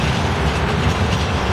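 An old tram in Łódź rattles loudly along its rails, a steady broadband clatter and rumble that fills the whole stretch without pause, close and continuous.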